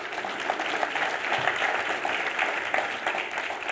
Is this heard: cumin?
no